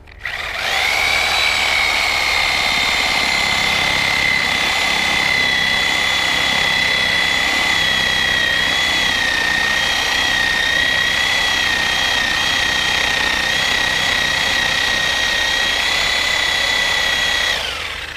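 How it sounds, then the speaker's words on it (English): A power tool blade cuts through tree stump roots down into the dirt during a stump removal, giving a loud, steady high-pitched whine that holds without a break for about eighteen seconds, with no talking. "And I just go around and cut all the roots."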